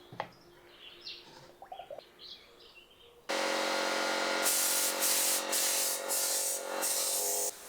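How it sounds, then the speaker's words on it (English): Aerosol spray paint in hammered black hissing steadily onto the handle of a Wadkin Bursgreen AGS 10 saw, a loud close continuous spray with brief pauses, after a quiet stretch with birds chirping in the background. "I sprayed it with a hammered black"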